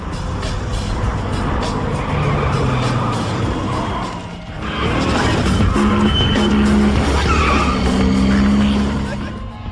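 Several cars arrive in a film scene, among them a Nissan Maxima SE, a VW Jetta and a Nissan Skyline R33 GTR, with loud engine roar and tire skids throughout, a brief dip midway, and mixed film sound including horse-like whinnies.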